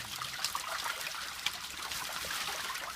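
Water trickling and splashing steadily during a water change in a home catfish tank, a continuous close dribble with small splashes and no voices.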